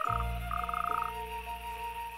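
Toads croaking at a noisy breeding pond: a close, loud chorus of steady trilled croaks, with one pulsing call rising over the ongoing drone.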